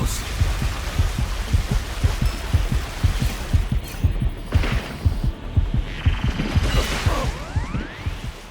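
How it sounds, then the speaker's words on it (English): A heavy, pulsing heartbeat from a raider closing in during Dragon Ball: The Breakers, thudding steadily in a low, rapid rhythm throughout, with ambient game noise and a faint rising whine above. "I'll be hearing the raider's impending heartbeat in my nightmares"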